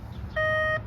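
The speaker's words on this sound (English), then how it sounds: "This thing is still beeping, look, without doing anything." A SkyCruiser metal detector sounding over a lawn gives one steady electronic beep of about half a second. The tone is bright and clear, with faint background noise around it and no voices.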